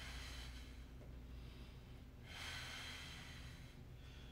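Slow, deep breaths during a stick mobility exercise: a long, soft exhale swells up midway, faint and close, with no talking.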